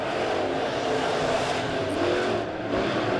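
B-Modified race cars roar around the Springfield Raceway speedway in a continuous loud engine drone, with several cars revving together at a distance and no voices over it.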